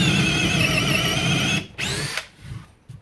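A Makita XFD11 subcompact cordless drill whines steadily at high speed with a 1/2 inch bit, then stops, followed by a brief second burst and a few quiet knocks.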